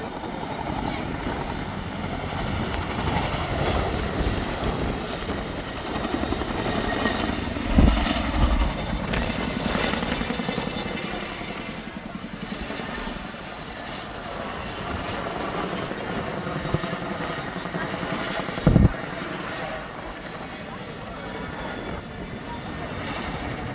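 An RAF Chinook HC.6 twin-rotor helicopter, ZK559, flying a climbing display at the Duxford Summer Air Show, a loud, sustained rotor and engine roar with a churning throb. An announcer talks over it, and a couple of sharp thumps punctuate the noise.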